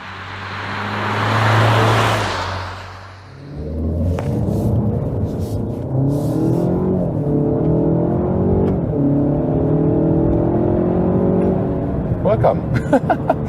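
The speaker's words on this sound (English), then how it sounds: "So that was acceleration to 100 kilometers or 62 miles an hour, and starting in a slight curve with this all-wheel drive" Alfa Romeo Giulia Veloce Q4 all-wheel-drive sedan pulls away from a standstill in a slight curve and accelerates to 100 km/h, engine rising through several gear steps heard from inside the cabin, loud and continuous, with a brief rush of noise before it.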